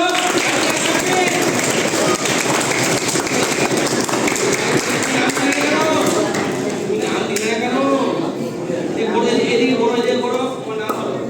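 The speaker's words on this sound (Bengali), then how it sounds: "খুব ভালো বলেছে, জোরে হাততালি ওর জন্য।" Sustained clapping from the audience at a school eco club quiz competition in Bandhgora Kali Krishna Vidyalaya, loud and dense, running steadily for about eleven seconds with crowd voices mixed in.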